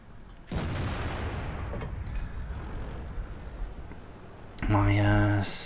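A tank gun fires in World of Tanks, a heavy boom followed by a long rumbling decay with battle noise underneath, then a second burst of engine or cannon sound near the end.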